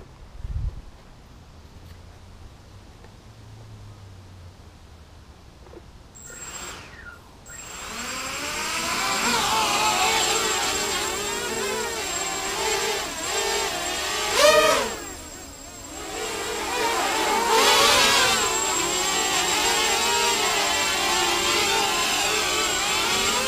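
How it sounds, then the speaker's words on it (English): A 290mm carbon fiber hexacopter drone spins up its six motors and flies, a steady whining buzz that rises and shifts in pitch with throttle changes, fairly close and with no talking. "let's just fire it up and take it for a flight."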